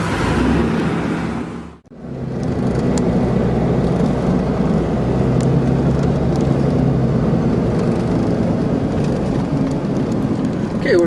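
Car driving up the mountain road to Volcan Baru in Panama, heard from inside as a steady, loud broadband road and engine rumble that drops out briefly near the start and then rolls on continuously.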